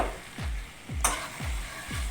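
A spatula stirs dried fish and black taro in a frying pan with four regular scraping strokes over a soft, continuous sizzle, and one sharper clatter comes midway.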